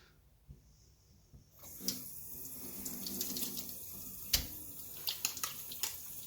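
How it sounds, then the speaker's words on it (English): Tap water runs into a sink while soapy hands are rinsed under it, starting after a quiet moment and continuing as an uneven splashing flow with a few sharper splashes and clunks. "See if I can get the soap off my hands now."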